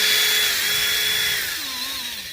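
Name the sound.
power tool polishing a car headlight with attachment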